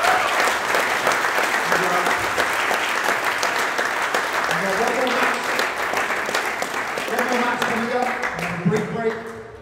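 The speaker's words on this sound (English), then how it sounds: "Please give them a huge round of applause." Audience applause for squash players at a Legends of Squash exhibition evening in Bermuda, a dense, loud, steady clapping that fills the whole stretch, with a few scattered voices under it.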